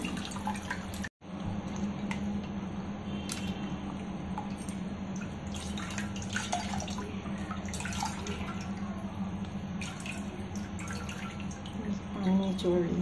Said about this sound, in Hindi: ठंडा पानी में धो लेते हैं,